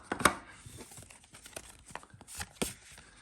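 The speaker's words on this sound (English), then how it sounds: "let me just shuffle these a couple of times" Gregory Scott Tarot deck being shuffled by hand, with soft, close papery riffles and sharper card slaps in quick irregular bursts, quiet and without talk.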